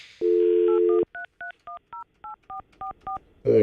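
Telephone keypad dialing while placing a call: a steady dial tone for about a second, then eleven short, evenly spaced DTMF beeps in quick succession, loud and clear with no talking, ending in a brief burst of noise.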